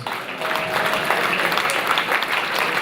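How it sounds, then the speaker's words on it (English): Guests at a sports club's 50th anniversary dinner give a round of applause, a dense burst of many hands clapping in a room, steady and fairly loud for a few seconds. "Listen, round of applause."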